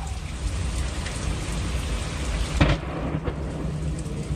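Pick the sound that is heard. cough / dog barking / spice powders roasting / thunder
thunder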